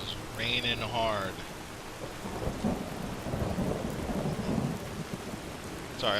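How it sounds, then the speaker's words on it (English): Heavy rain pours in the fantasy game Enderal, a steady wash of downpour with low rumbling beneath; someone talks briefly over it at the start. "Oh, it is raining hard."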